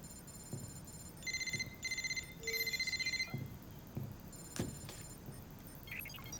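A telephone rings on an outgoing call, giving a few short, faint trilling bursts in quick succession against a quiet room, with no speech.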